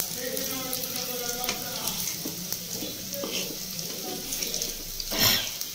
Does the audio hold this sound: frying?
yes